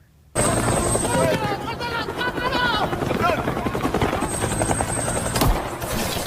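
A helicopter's rotor and engine drone loudly and steadily, with gunfire-like bursts and voices mixed into the dense, chaotic scene.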